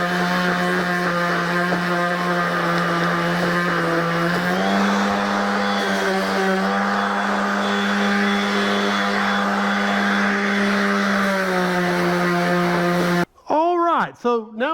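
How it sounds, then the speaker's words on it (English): A power sander works over small wood pieces for a custom spice rack, a loud, steady motor whine that dips briefly in pitch midway, then cuts off as a voice begins speaking. "We're going to sand these a little bit"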